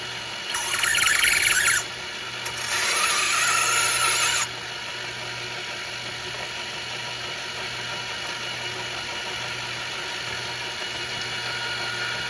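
A trimmer cuts brass cartridge cases in two loud, close bursts of whirring and grinding, one short and one longer. A low, steady hum continues alone afterward.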